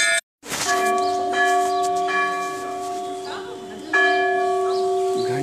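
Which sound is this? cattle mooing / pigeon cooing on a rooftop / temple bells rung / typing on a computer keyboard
temple bells rung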